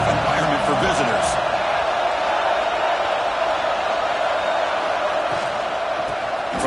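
A stadium crowd at a football game roars as a constant dense wash of noise, loud and unbroken, with a voice talking over it.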